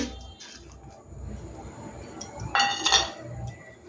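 A metal plate set down for gram flour, giving a bright clatter and clink midway after quieter handling sounds, close and fairly loud.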